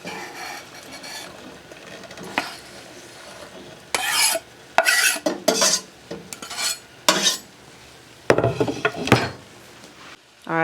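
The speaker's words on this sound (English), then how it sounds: "I've got the ground beef broken up there, and I'm going to add in my diced onion." Ground beef and diced onion are stirred in a pan with a utensil, giving bursts of close scraping and scuffing against the metal between quieter stretches of faint sizzle.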